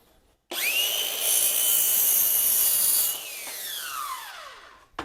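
A circular saw spins up with a rising whine, then cuts through a clamped piece of wood with a loud, steady buzzing rasp. The pitch drops after the cut and the motor winds down, heard close and alone.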